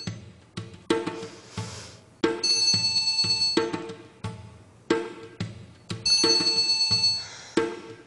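A telephone rings insistently with an incoming call, a loud, close electronic ringtone repeating in rhythmic bursts of bright chiming tones.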